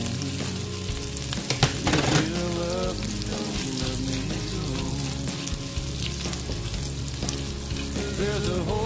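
Garlic fries in melted butter for a creamy sauce, a steady close sizzle and crackle that holds for the whole stretch, with a brief stirring clatter early on.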